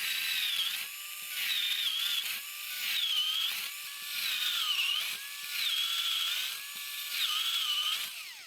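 An old cordless electric drill with a weak chuck, running on a new battery pack built from 18650 cells, whirs in repeated bursts, about seven short runs spinning up and down with brief pauses between, close and fairly quiet.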